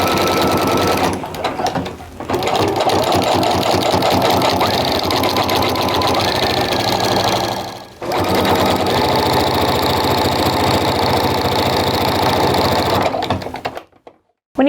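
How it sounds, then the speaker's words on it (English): A sewing machine runs steadily, stitching a fabric Christmas stocking, with its loud motor whir pausing briefly twice, the second pause a clear break while sewing forward and back, before stopping at the end. "So I'm gonna start by sewing a little bit ahead and then I'm gonna sew a little back"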